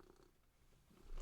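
A cat named Peanut purring close by, a soft continuous low rumble over a short stretch, quiet but steady, with no speech.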